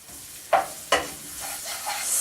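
Garlic frying in olive oil in a pan on a stovetop, with a couple of sharp stirring scrapes followed by a steady, soft sizzle that slowly builds; nobody speaks.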